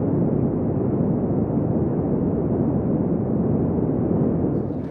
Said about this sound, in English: the launch team follows the final countdown, ensuring all systems are functional before the rocket is launched into space